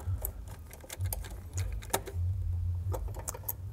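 Screws being tightened on billet pedal covers for a classic Mini, close soft metallic clicks and ratcheting taps at an uneven pace over a low hum, with no talk.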